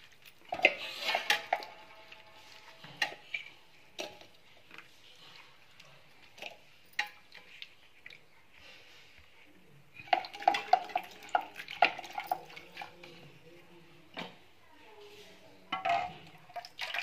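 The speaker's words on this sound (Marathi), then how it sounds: "आता आपण ह्या शेरण्या स्वच्छ 2 पाण्याने धुवून टाकणार आहोत" Seeded sherni vegetable is rinsed in clean water in a metal pot, with intermittent splashing, dripping and clattering of vessels in bursts separated by quieter pauses.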